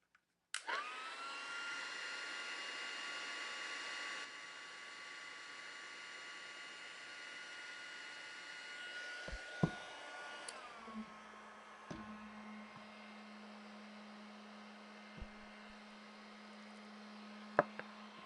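A heat embossing gun warms a stamped Versamark image, a close, steady blowing whir like a small hair dryer that starts suddenly and runs continuously, its pitch shifting partway through, with a few light knocks.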